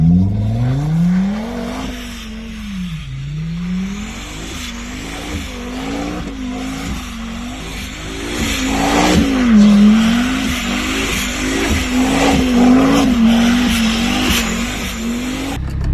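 Volkswagen Golf R with a 2.5-litre turbocharged engine that is misfiring, driven with engine revs rising and falling in repeated surges, the uneven note growing louder toward the end with rough, choppy crackles.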